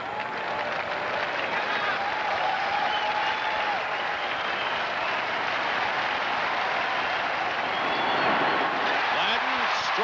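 Baseball crowd at the 1991 ALCS Game 5, Twins at Blue Jays in Toronto, cheering as Candiotti strikes out Gladden: a steady, dense roar of applause and voices filling the whole stretch, swelling slightly near the end.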